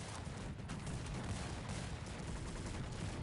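Dense, distant battle gunfire from a Cossacks 3 tournament fight, a continuous low crackle of massed musket volleys rolling together with no distinct individual shots, fairly faint throughout.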